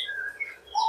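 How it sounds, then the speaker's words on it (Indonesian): Budgerigar, the Australian parakeet, chirping in a few quick, bright, close tweets and whistled calls, alone and without talk. "terutama burung parkit Australia ini ya"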